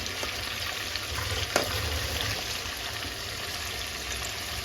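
Chicken fries in a pan while being stirred, giving a steady, close sizzle throughout with one brief scrape or knock partway through.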